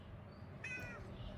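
A cat gives a single short meow over a low, rumbling background hum.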